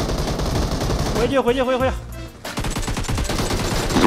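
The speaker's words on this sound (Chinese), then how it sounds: "大哥有枪声" Bursts of gunfire in the battle royale game PUBG crackle through most of the few seconds, loud and close, with a shouting voice and game noise over the shots.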